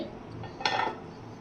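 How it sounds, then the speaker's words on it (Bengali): A metal cooking-pot lid lifts off with a brief clink and clatter around the middle, close and alone against a faint kitchen background, while sweet pulao cooks underneath. "বন্ধুরা আবার দেখুন ঢাকনাটা খুলছি 2 মিনিট পরে।"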